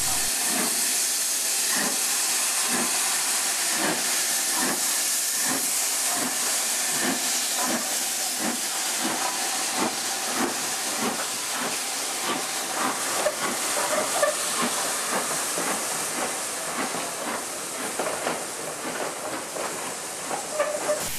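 An N2 steam locomotive departs on a heritage railway, hissing steam continuously while its exhaust beats out a steady, rhythmic chuff that gradually quickens, heard from a moderate distance with no voices.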